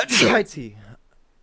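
A single loud, close sneeze bursts out, followed by a short voiced tail and then quiet.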